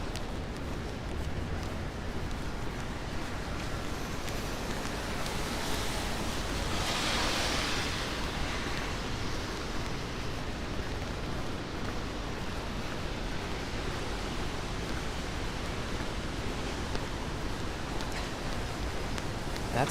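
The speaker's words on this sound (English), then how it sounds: "Prince Ice, it's a nice rainy spring morning." Steady rain on a New York City street on a spring morning near Park Avenue, a dense, unbroken wash of noise that stays loud and even the whole time, with no talking.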